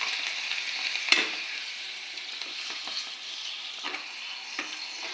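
Papad fries in hot oil with a steady, soft crackling hiss, close by. Occasional faint clicks are heard over the sizzle.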